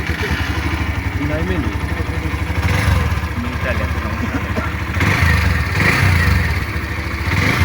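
A Hero Xtreme 125R motorcycle engine idles with a steady rapid putter, then revs up twice in short bursts, close by, while people talk faintly in the background.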